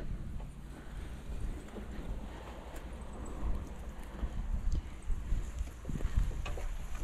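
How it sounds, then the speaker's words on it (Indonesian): A specialised green onion planting machine runs in a field in Japan, giving a rumbling, uneven mechanical drone with scattered clanks and knocks that grows somewhat louder toward the end, heard without any talk. "Ini adalah mesin khusus untuk menanam si daun bawang."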